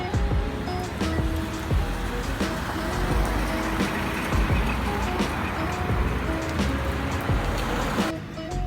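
Rain pours down in a steady, loud, dense hiss with spatters and drops hitting surfaces close by. It continues almost unbroken throughout and briefly eases near the end.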